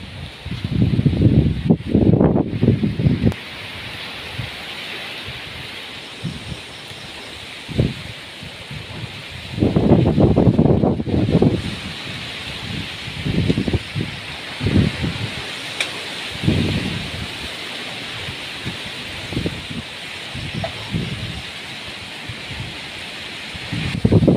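Cyclone Remal's strong wind sweeping through large trees in Morigaon district, Assam, a loud broadband roar of rushing leaves and branches that swells in several heavy gusts and eases between them.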